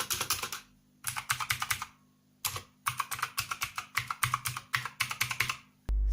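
Rapid clacky typing on a Skyloong SK03 mechanical keyboard, bursts of close, loud keystrokes with short pauses between, ending in a thump, no voices.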